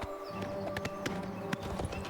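Horse hooves clip-clop in a steady walking rhythm in Elder Scrolls IV: Oblivion Remastered, with repeated sharp hoof strikes over a low ambient game background and no talking.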